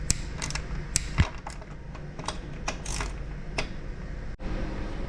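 Bicycle bolt being tightened to 6 Nm with a torque wrench, heard as a series of sharp clicks and ratcheting ticks scattered across several seconds over a steady background hum.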